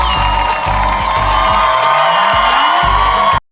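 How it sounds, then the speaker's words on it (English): A live studio audience at a Love Is Blind Season 4 reunion cheers, whoops and claps in a loud, continuous wall of crowd noise, with music playing underneath until it cuts off abruptly. "So they have a live studio audience"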